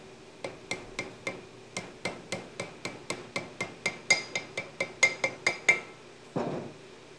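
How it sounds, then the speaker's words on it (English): A hammer taps a rear brake rotor grease seal into place, around twenty light, evenly spaced metallic knocks that quicken slightly near the end, with no talking. "Install the rear grease seal by tapping it lightly in a circle with a hammer until it is seated completely."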